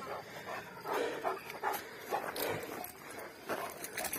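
A Kangal dog pants rapidly and audibly close by, quick rhythmic breaths repeating with a few scuffling sounds, no talking.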